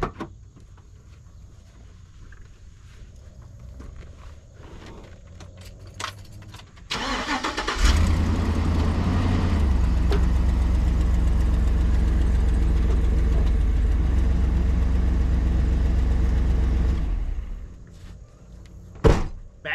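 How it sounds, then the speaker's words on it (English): A truck engine cranks and catches partway through, then settles into a loud, steady idle for about ten seconds before cutting off, at a firewood-splitting site with a Wolfe Ridge 22 RS splitter; a few clunks come before and after. "Gotta pull the truck ahead."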